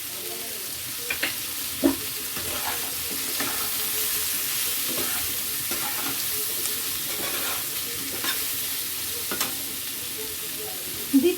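Turmeric and Kashmiri red chili powder fry in a pan with pumpkin and eggplant, a constant close sizzle broken by occasional scrapes and clacks of stirring.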